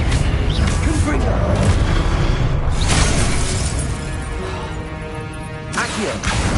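Confringo blasting spell going off in the Hogwarts Legacy video game, a loud, dense burst of crashing, shattering noise filling the whole stretch, slowly easing toward the end before a fresh swell.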